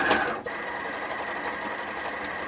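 A domestic sewing machine stitches across stretchy fabric, a steady, close mechanical whirr with a fast, even needle rhythm running continuously after a brief start.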